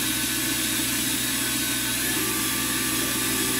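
A Walter Helitronic Mini Power CNC tool and cutter grinder spindle running at speed, a steady loud mechanical hum and whine with no breaks, droning evenly throughout.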